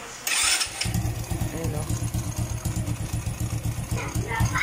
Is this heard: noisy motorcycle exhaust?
yes